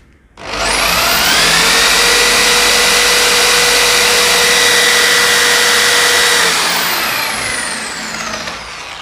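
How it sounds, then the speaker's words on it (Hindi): A power drill with a 10 mm bit spins into iron, whining loudly and steadily with rising and falling motor tones for several seconds before slowing toward the end. "अब मैं डायरेक्ट इससे ड्रिल करना स्टार्ट कर दूंगा।"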